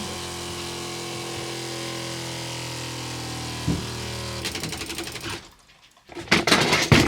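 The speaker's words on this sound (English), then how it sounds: "Let's turn the pump on" An off-grid water pump runs with a steady electric motor hum and whine, then falters into sputtering, uneven pulses, cuts out briefly, and restarts in rough bursts.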